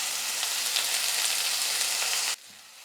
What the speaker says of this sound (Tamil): கேரட் சேர்த்து ஒரு 3லேருந்து 4 நிமிஷத்துக்கு நான் வந்து குக் பண்ணி எடுத்துக்கிட்டேன்